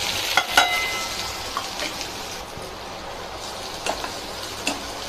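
Onions fry in oil with chillies and crushed garlic cloves for a village-style dried Bombay duck dish, a close steady sizzle with a few brief stirring clatters and metallic scrapes.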